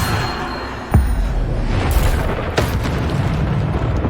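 Loud spell blasts from Bombarda in the Hogwarts Legacy video game: a sharp booming explosion near one second, then further heavy bursts around two and two and a half seconds over a dense rumbling battle din.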